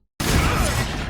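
A Confringo spell cast in Hogwarts Legacy bursts out of silence as a loud, dense blast with a crackling whoosh, holding steady for nearly a second before easing slightly.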